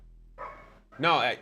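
A pet dog named Tommy gives two short barks indoors, the second louder and sharper, close and fairly quiet; a person speaks briefly.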